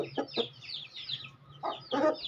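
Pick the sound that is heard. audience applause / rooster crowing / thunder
rooster crowing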